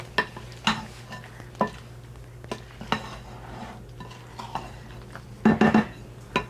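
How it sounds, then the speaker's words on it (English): A spoon stirring macerated apples in a bowl makes intermittent light clinks and scrapes against the dish, close by, with a brief cluster of clinks near the end over a faint steady hum. "we're gonna get our macerated apples right away, which are, they've been hanging out back here. I'll give them a little stir."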